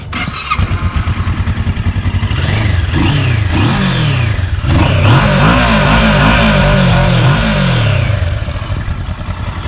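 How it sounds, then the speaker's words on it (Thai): A 2016 Kawasaki Versys 650 motorcycle on its stock exhaust cranks and starts, then the engine revs up and down several times in loud, close, rising and falling sweeps before settling into idle. "เดี๋ยวเรามาสตาร์ทให้ฟังนะครับ เสียงเครื่องเวอร์ซิตเป็นยังไง"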